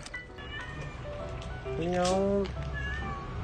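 A stray cat on the street gives a drawn-out, wavering meow, close and prominent midway through, amid faint outdoor noise, with a person speaking briefly in Korean.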